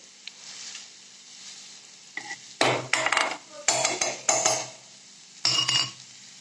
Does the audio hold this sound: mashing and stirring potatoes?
yes